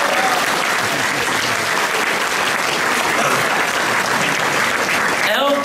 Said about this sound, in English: I want to give a big warm round of applause